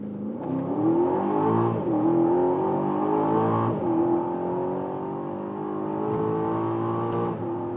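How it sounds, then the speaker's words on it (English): An Audi RS Q8 or Aston Martin DBX accelerating hard from 25 km/h on the Autobahn, the engine roaring loud and rising steadily in pitch through several upshifts, heard from inside the cabin with no talk. "We find a safe spot and accelerate from 25 kilometers an hour and let the hell roll."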